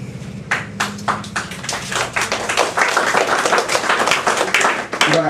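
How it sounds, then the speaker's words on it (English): Scattered audience clapping at a poetry reading, starting sparse and building into a moderate round of applause with distinct individual claps, a brief voice at the start. "You don't have to clap for all of them."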